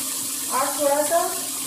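Water pours steadily into a pan of egg masala curry with its dry spice powders, giving a continuous close splashing hiss that swells briefly midway.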